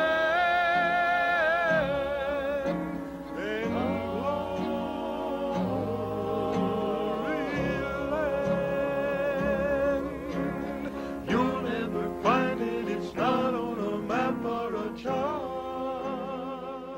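A gospel quartet in 1963 sings in close harmony with a steady bass line underneath, a full-sounding older recording that carries on continuously.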